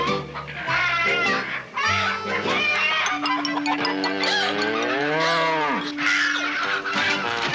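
A cow on a western ranch gives a long, loud moo over a rural farmyard backdrop, with other animal sounds and muffled voices around it.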